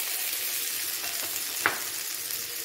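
Fried potatoes and rice cooking in a pan for a Bengali muri ghonto, a steady broadband sizzle with a brief louder stir or scrape near the middle, no talking.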